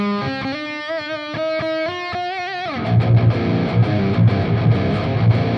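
Distorted electric guitar amp heard from another room through room microphones at a distance: a sustained chord passage, then a dense, washy chugging riff full of reverb.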